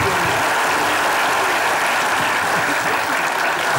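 An audience claps in a dense, continuous burst of applause that stays loud and even throughout, with no voices standing out.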